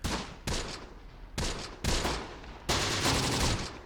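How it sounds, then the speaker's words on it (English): Machine-gun fire in the Close Combat: The Bloody First wargame: several sharp, loud bursts at irregular intervals, each trailing off into echoing decay, with no talk. "We're going to fire over there on the right side, just to hit any enemies that could potentially flank us with machine gun fire."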